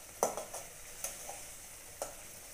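Koftas being stirred through masala gravy in a pan, with a few soft scraping strokes spaced over a couple of seconds above a faint, steady sizzle. No one speaks.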